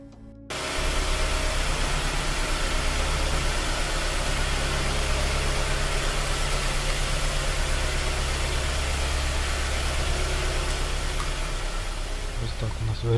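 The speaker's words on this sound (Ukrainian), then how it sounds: "мені потрібно завести машину, щоб галоген працював на максимальну потужність" A Mazda CX-7 engine cranks and starts, then idles steadily and close with a constant hum and faint hiss that runs to the end without talking.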